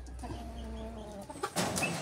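Laying hens on a small farm cluck softly and close by in short, low murmuring calls, with a brief rustle and knock toward the end.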